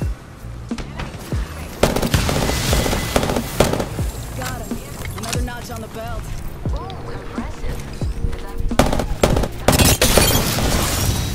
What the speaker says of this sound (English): Throwing Arc Star. Throw nades.